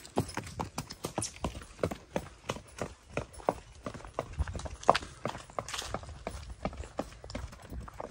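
Hooves clip-clop steadily as a mare is ridden, a brisk, even rhythm of distinct strikes that stays fairly near throughout with no voices.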